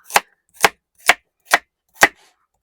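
Knife chopping vegetables such as carrot, broccoli, paprika and onion on a board at home, five evenly spaced crisp thuds about half a second apart, close and loud, alone without talk.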